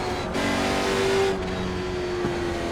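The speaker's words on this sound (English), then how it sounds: "Seems like this car is really loud for some reason." A Late Model Stock race car engine in iRacing at Nashville Fairgrounds drones loudly and steadily, with a slight rise in revs midway and a faint tire screech near the end.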